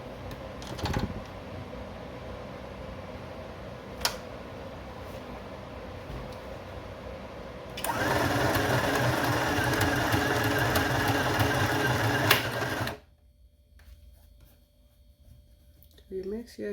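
A sewing machine runs a French seam along the stitching line in a steady, close mechanical whir that starts about halfway through, after a quieter stretch with light clicks, and stops abruptly near the end.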